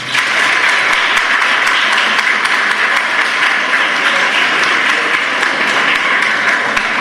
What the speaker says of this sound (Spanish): Vamos a darle un fuerte aplauso a María Gloria